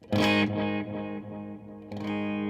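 Clean electric guitar notes with an eighth-note delay and reverb set around ten o'clock, for a worship lead part; a loud plucked note rings and blends, with a second note struck near the end.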